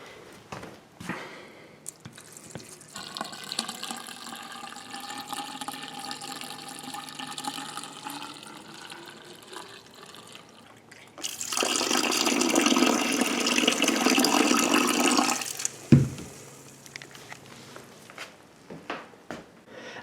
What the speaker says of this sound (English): I am going to pour it inside the vacuum hose